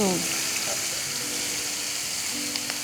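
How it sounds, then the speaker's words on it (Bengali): Mixed vegetables of cabbage, spring onion and peas hit hot oil for a sweet vegetable chicken dish, setting off a steady, close sizzle with light stirring and a brief clink near the end. "হ্যাঁ, এটাকেও আমি তেলে ফ্রাই করব। ফ্রাই করার জন্য দিয়ে দিলাম।"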